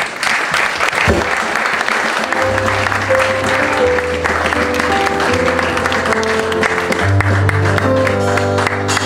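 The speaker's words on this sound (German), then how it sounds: "das ist einen ganz, ganz großen Applaus von Ihnen bitte wert." An event audience at a summer lounge gathering in Selb gives loud, sustained applause, dense clapping from a large crowd, with a low sustained musical tone rising beneath it partway through.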